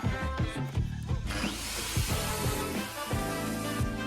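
A power grinder cuts through a wooden desk inside a police van being converted, giving a loud, continuous rough whine with rising and falling bursts as the blade bites into the surface, with no talking.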